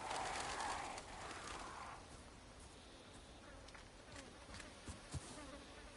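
Buzzing insects in Resident Evil 4, a faint continuous drone with brief louder buzzes at the start, over quiet game ambience.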